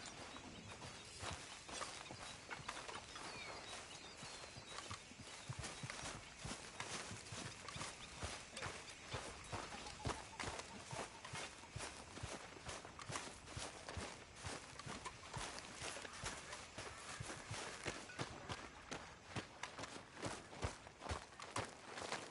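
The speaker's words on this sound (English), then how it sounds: "Get that horse out of here." Horse hooves walking in the video game Red Dead Redemption 2, a steady rhythmic clip-clop of footfalls close by, continuing evenly throughout with no talking.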